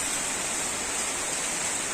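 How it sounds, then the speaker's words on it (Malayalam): Heavy rain pours down steadily during a downpour in Kasaragod district, Kerala, producing a dense, unbroken hiss with no talk over it. "ഒടുക്കത്തെ മഴയാണ് ഗൈസ്."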